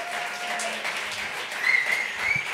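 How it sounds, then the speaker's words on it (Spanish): An audience at a public presentation in Vitoria breaks into applause, a continuous crackling wash of many hands that swells slightly near the end. "otro fuerte aplauso para Alicia Arguiñano"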